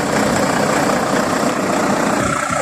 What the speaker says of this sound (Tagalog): umaandar pa rin ang makina natin kahit nakaparking tayo